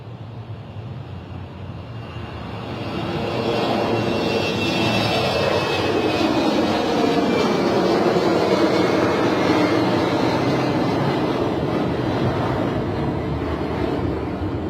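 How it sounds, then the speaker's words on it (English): An airliner at London City Airport, its engine roar swelling from a low rumble into a loud, sustained broadband drone as it passes fairly close, with some wind buffeting the microphone. "Wonderful sights and sounds from this iconic airport."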